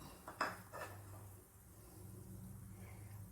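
Jackfruit seed thoran mixture stirred in a pan: a couple of quick metallic clinks and scrapes of a spoon against the pan near the start, then only low background hum.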